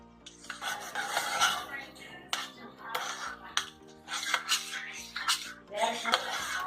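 Hot chocolate powder and sugar are stirred in a pan with a spoon, giving repeated scraping and clinking strokes in an uneven rhythm, close and fairly quiet.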